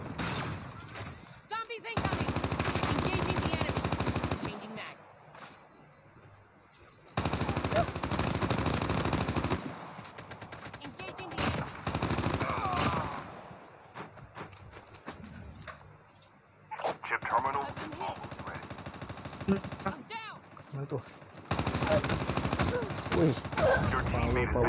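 Long bursts of automatic machine gun fire in the Call of Duty video game alternate with quieter gaps, loud and dense, while a player talks over parts of the action.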